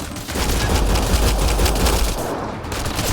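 Sustained loud gunfire from a firefight in Mass Effect Andromeda, a dense continuous volley of shots that thins out near the end.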